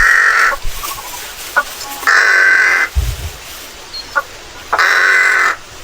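A chicken gives loud, harsh crowing calls, three long bursts with short gaps between them and a few softer clucks and noises in the pauses.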